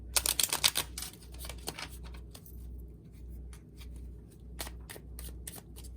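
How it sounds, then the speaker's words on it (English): A deck of tarot cards riffled and shuffled by hand during a pick-a-card reading, a burst of sharp fluttering snaps followed by repeated softer shuffles over a low hum, close up with no voices. "They're telling me to shuffle those one more time."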